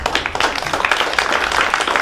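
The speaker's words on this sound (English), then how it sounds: "big round of applause to everybody for presenting" A tech meetup audience in Las Vegas applauds the presenters after a demo night, with dense, steady clapping from many hands that fills the room for the whole stretch.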